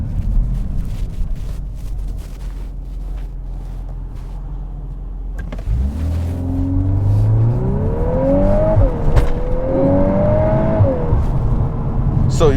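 A 2022 Volkswagen Golf R MK8 with DSG gearbox in drift mode, heard from inside the cabin as the engine note swells and sweeps up and down, with a voice talking over it.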